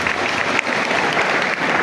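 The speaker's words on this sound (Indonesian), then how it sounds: "beri tepuk tangan dulu untuk Tengku Habibie." Lively audience applause at an Islamic talk show and religious lecture, a dense, steady burst of clapping close by without voices.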